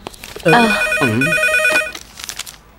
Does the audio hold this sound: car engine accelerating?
no